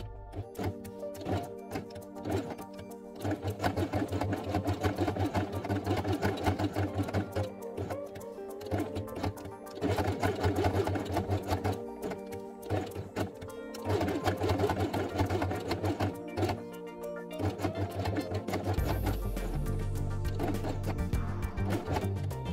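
A sewing machine runs steadily and close by as it stitches along the edge of a felt piece, its rapid mechanical needle clatter continuing with brief slowdowns and a change in tone near the end.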